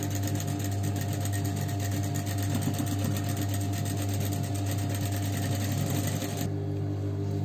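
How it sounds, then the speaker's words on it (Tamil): A sewing machine runs steadily, stitching lining fabric for a child's balloon frock; a continuous close hum and rapid needle chatter with no talk, stopping abruptly near the end. "லைனிங் துணிக்கு தையல் போடணும் மேல் தையல்"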